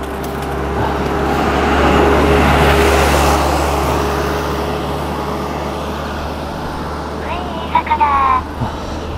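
A car passes on a mountain road while a cyclist climbs a hill. A loud engine rumble swells over a constant low hum, then fades, and a few brief sharp sounds come near the end.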